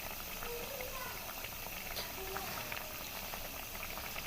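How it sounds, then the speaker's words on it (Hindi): Shakarpara sweets fry in hot oil over a medium-to-low flame, giving a steady close bubbling sizzle throughout while a person talks over it. "मीडियम टू लो फ्लेम पर हमने इनको फ्राई करना है ताकि अंदर तक ये कुक"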